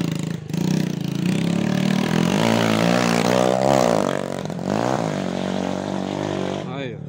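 A motorcycle held in a wheelie outdoors revs hard, its engine note climbing and wavering through the middle before settling, loud and close throughout with voices in the background.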